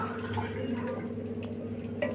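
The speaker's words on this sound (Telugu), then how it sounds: "వాటర్ పోసుకోవాలి" Water trickles steadily as it is poured for a homemade drink made with mint, jaggery and lemon, a soft running flow over a constant low hum in a home kitchen.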